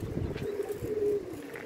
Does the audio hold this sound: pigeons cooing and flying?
yes